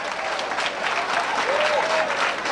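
Audience at a 1990 speedway awards banquet in Highland, Illinois, applauding continuously, dense clapping filling the room with a faint voice or whistle rising briefly near the end.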